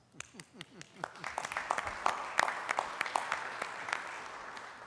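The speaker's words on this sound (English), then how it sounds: "I think we need to applaud ourselves" Scattered applause from a city council meeting audience, starting as a few sparse claps and filling in to a modest round that fades, with murmured voices underneath.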